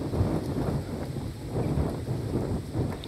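Strong wind buffeting a handheld camera microphone outdoors on a road trip, a continuous low rumbling roar with gusty swells throughout, loud and steady with no voices.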